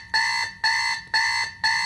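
An old-fashioned alarm clock rings in four loud, evenly spaced bursts of harsh ringing, each lasting about a third of a second with brief gaps between them, close and alone.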